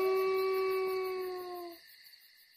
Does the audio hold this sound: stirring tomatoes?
no